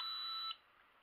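A toy quadcopter drone gives one steady high electronic beep after syncing with its controller; the tone holds for about half a second and then cuts off, leaving quiet room noise.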